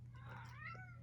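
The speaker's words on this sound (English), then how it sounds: "That's my cat." A cat meows once, a rising then falling call over a steady low electrical hum, fairly close in an indoor room.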